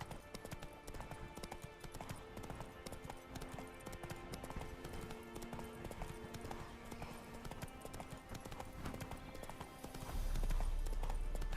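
Roach, a horse in The Witcher 3 video game, gallops with steady rapid hoofbeats under game music, continuous throughout and swelling louder near the end.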